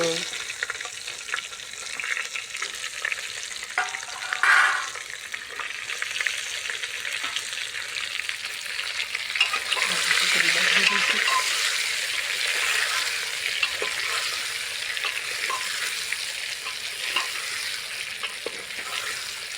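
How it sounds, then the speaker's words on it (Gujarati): Brinjal pieces sizzle steadily in hot oil inside a pressure cooker, a bright crackling hiss that swells midway as more are added, with a few stirring scrapes and no talk. "તો આપણે તેલ ગરમ થઈ ગયું છે તો હવે આપણે એમાં રીંગણા મૂકી દેવી"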